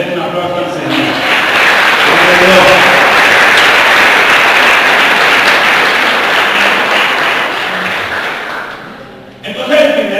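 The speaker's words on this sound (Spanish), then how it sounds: "Den un aplauso al Señor." Church congregation breaks into loud, sustained applause that swells and then fades over about nine seconds, with a voice audible at the start and again as it dies away.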